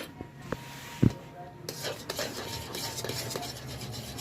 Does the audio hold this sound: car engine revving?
no